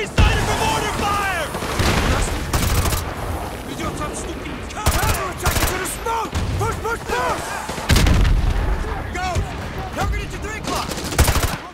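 Rapid bursts of rifle and machine-gun fire with heavy booming shots in Call of Duty: Modern Warfare 2 Remastered, loud and close, clustered in sharp volleys throughout, with voices calling out in between.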